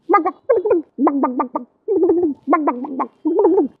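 A person imitates pigeon cooing: repeated throaty, bubbling coos in short bursts with brief pauses, close and clear, no other voices.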